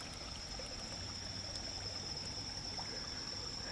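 Water trickles and rushes through small waterfall channels carved into bedrock potholes at Big Gunpowder Falls, a soft continuous flow heard faintly and steadily without talk.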